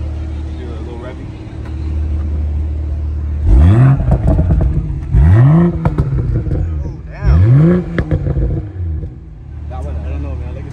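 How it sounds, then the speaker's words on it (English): A 2022 BMW M-series car, such as an M240i, M340i xDrive or M440i, revs through its exhaust at a track event, with three or four loud, rising bursts separated by idle, close to the listener. "Get the any exhaust? Yeah. Do a little revving."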